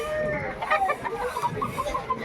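A chicken clucks repeatedly close by in a quick, choppy series, with faint background noise.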